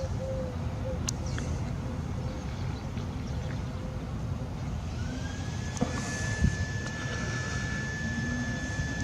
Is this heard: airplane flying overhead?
yes